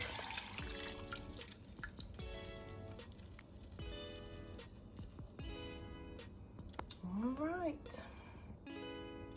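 Sauce for beef and broccoli is poured into a slow cooker over steak, giving soft liquid splashes and drips beneath steady background music.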